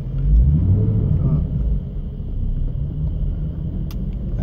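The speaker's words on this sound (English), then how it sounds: "Give it a little gas and clutch out." A 1996 C4 Corvette with a manual transmission rumbles close by as the clutch is let out and it pulls away, the engine swelling early and then settling into a steady drone.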